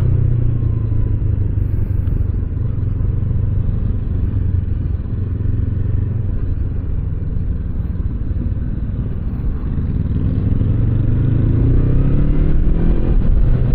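A Honda NX500 middleweight adventure motorcycle pulls under throttle while being ridden, its engine a steady close rumble mixed with road and wind noise, climbing slightly toward the end.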